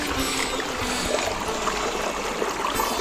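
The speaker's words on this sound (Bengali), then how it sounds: "ঝর্ণার জল এখান থেকে বয়ে যাচ্ছে" Water from a waterfall stream at Panchalingeswar rushes along in a continuous, close, full-bodied flow with no pauses.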